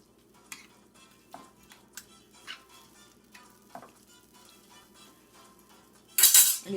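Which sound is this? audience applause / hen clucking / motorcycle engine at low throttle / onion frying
onion frying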